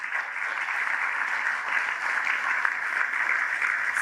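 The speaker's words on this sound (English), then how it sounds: "So another round of applause" A steady round of applause at a state conference, a dense even patter of many hands heard from a moderate distance, sustained throughout with no talk.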